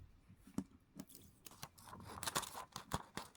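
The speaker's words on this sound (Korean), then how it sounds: "가위로 이렇게 잘라주도록 할게요" Scissors snip through craft material in a series of sharp, crisp cuts with small rustles between them, close and fairly quiet, with no talking.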